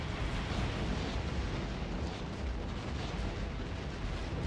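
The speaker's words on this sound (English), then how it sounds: "I'm just gonna spam grenades" Grenades detonate over and over in the video game Factorio, merging into a dense, continuous rumbling roar of blasts that stays loud and unbroken from start to finish.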